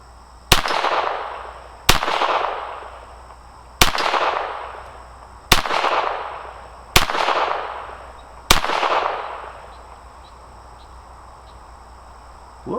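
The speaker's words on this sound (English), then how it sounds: "First shots with Norma at the top bullseye." Six sharp, near pistol cracks from an FN 502 .22 firing Norma ammunition at a bullseye target, spaced roughly a second and a half apart, each with a short ringing decay, then quiet.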